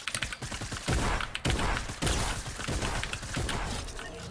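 Rapid bursts of gunfire in the Fortnite video game, several close, loud volleys in quick succession with short gaps between them, no voices over the shooting.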